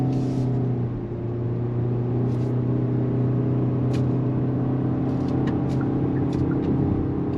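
A 2025 Kia Soul pulling away on throttle after a U-turn, heard as a steady, moderately loud engine drone from inside the cabin that rises only slightly, with a few light clicks and rattles.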